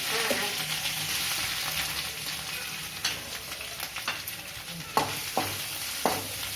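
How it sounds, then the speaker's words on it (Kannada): Green chillies frying in a pan with curry leaves make a steady, close sizzle, punctuated by several sharp scraping and tapping stirs toward the end. "ಆಮೇಲೆ ಹಸಿಮೆಣಸಿನ್ಕಾಯಿ ಹುರ್ಕೋಬೇಕು"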